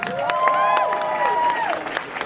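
An audience at a King's Trust Scotland event applauds to welcome a speaker to the stage, with bright whistles and cheers rising over the clapping for a couple of seconds.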